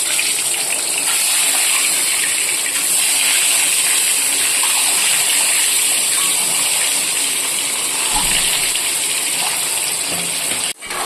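Duck eggs fry in hot oil with a paste of chili, cumin, ginger and garlic plus salt and turmeric, giving a loud, steady, close sizzle that hisses without a break until a brief knock at the end.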